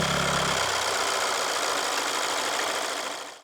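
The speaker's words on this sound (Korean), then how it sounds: "이 차는 정확히 누가 들어도 디젤 차 같은 소음과 진동이 느껴집니다" Diesel engine of an Audi small SUV running steadily with a coarse, even drone and a brief deeper rumble at the very start, holding level before trailing off at the end.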